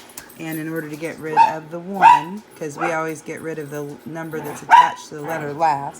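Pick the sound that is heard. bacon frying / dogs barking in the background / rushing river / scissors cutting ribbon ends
dogs barking in the background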